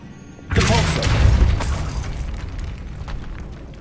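Depulso force spell cast in the video game Hogwarts Legacy, a sudden loud whooshing blast with a rumbling burst that lingers and slowly decays into a noisy tail.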